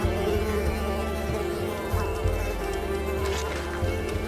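A swarm of mosquitoes in a video game makes a dense, continuous whining buzz that stays loud and steady throughout, with low rumbling game sound underneath.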